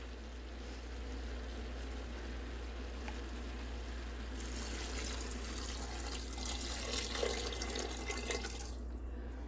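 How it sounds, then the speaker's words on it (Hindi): Water pours into a pressure cooker holding chana dal and bitter gourd, a steady splashing stream swelling louder partway through, with a constant low hum underneath and no talk. "अब पानी डालते हैं।"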